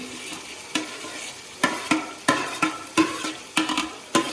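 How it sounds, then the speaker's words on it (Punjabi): Mushrooms go into a hot pan with chopped onion and are stirred, giving a steady sizzle punctuated by repeated scraping knocks of a spoon against the pan. "ਇਹਦੇ ਵਿੱਚ ਜਿਹੜੀਆਂ ਮਸ਼ਰੂਮਸ ਨੇ ਉਹ ਪਾ ਦਾਂਗੇ"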